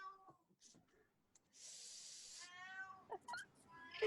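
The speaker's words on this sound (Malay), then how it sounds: "Sial lah kucing ni." A house cat meows and hisses nearby, with a drawn-out meow and a breathy hiss amid faint room noise, fairly quiet overall.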